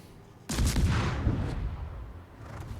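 Heavy naval gunfire from a World of Warships battle: a single loud, close booming salvo that erupts abruptly and rolls on in a long, rumbling decay, with no talk over it.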